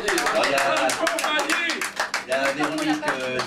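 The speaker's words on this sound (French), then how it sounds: "On l'applaudit." Small-group clapping for members of a local company: distinct close hand claps in a quick, uneven rhythm, with voices talking among them.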